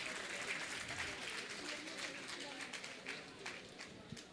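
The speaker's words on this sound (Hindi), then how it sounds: "तालियां तो बजा दो" Applause from an audience at a religious ceremony in Jaipur, a steady crackle of many hands clapping at a moderate distance, with faint voices mixed in throughout.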